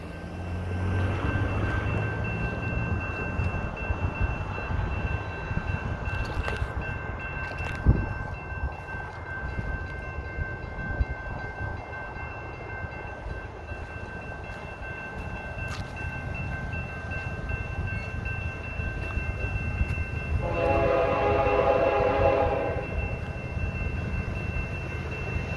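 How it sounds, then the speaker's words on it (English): A Union Pacific manifest freight train, led by several locomotives, passes at Olive Avenue in Fresno, California: a steady, loud rumble of wagons rolling by, with a horn-like tone and a louder stretch near the end. "we got an incoming Union Pacific freight train passing Olive"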